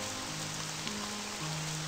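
Steady rain from the video game Chloe's Requiem, a soft even broadband patter with sustained low tonal notes underneath, moderately quiet and continuous with no voices.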